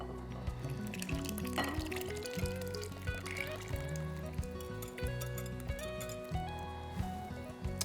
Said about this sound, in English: now we are going to fold in our wet ingredients to the dry.